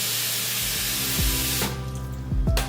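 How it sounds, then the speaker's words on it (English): Water runs from a tap into a small 1.8-litre pan for pineapple peel tea, a steady close hiss and splash with a few clunks and shifts near the end, and no talking. "Just add some water to this."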